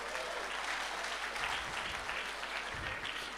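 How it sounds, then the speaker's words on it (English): Seminar attendees at a blockchain and metaverse event break into applause, a continuous dense patter of clapping heard from a distance, with a low hum beneath and a few faint voices. "Let's give that a round of applause."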